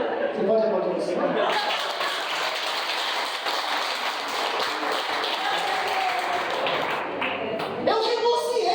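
A church congregation applauds: dense, sustained clapping fills the room for several seconds, with a voice heard briefly at the start and again at the end.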